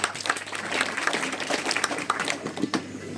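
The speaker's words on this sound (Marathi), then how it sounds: "आपण सर्वांच्या वतीनं भाऊंचा टाळ्या वाजवून अभिनंदन करूया" An audience at a felicitation for newly elected cooperative society officials in Malewadi claps together, producing a dense, steady patter of applause lasting a few seconds.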